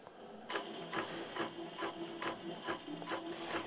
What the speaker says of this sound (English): I'm going to take a single stitch to pull up my thread.